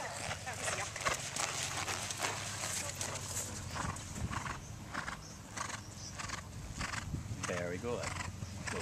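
A horse canters in an arena, its hoofbeats thudding in a steady rhythm under a rider coaching aloud, with a brief snort or whinny near the end.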